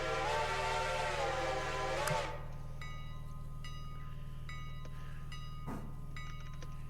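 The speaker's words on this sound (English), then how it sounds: "I just think 35 is a bit fast for a freight train" A freight train in the Railroader simulation game sounds a long, loud horn for about two seconds over a low, steady rumble, then rolls on with sharp metallic clicks and clanks.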